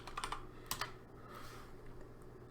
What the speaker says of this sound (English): we're going to type in light